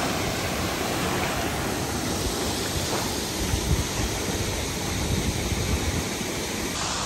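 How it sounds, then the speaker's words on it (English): A loud waterfall roars at a jungle campsite on Tasik Kenyir, its broad, constant rushing wash of water filling the scene steadily and close by, with no voices. "I know the waterfall is very noisy."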